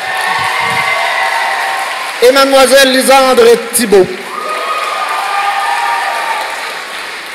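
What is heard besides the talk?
audience applauding award finalists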